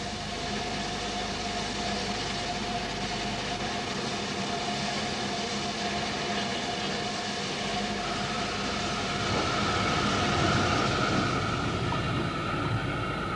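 A steam locomotive train rumbles along steadily with a sustained mechanical tone, growing somewhat louder and rougher toward the end; no voices.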